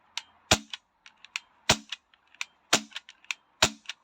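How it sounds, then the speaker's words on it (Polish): Sharp, snappy clicks of a Beretta Elite 2 air pistol dry firing with no ammunition, four main cracks in an uneven rhythm with lighter mechanical clicks between, close and fairly quiet. "Taki odgłos wydaje e, pistolet jak strzela."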